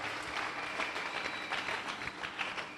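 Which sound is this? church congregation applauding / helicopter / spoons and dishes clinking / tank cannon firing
church congregation applauding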